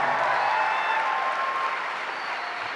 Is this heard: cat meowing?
no